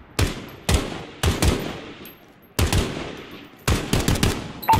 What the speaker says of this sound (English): Rifle. Solid shot, Garrett.